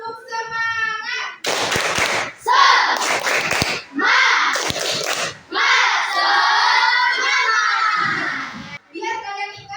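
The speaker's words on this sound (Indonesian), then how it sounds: "Yuk tepuk semangat." A class of children performs a rhythmic spirit clap, bursts of patterned hand claps mixed with loud chanting and shouting voices, near and energetic, with an adult voice before and after.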